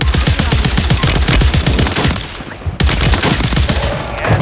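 Rapid automatic bursts from a Glock in a Call of Duty-style battle royale on Rebirth Island, loud and close, firing in dense repeated volleys with a brief lull before a sudden fresh string of shots.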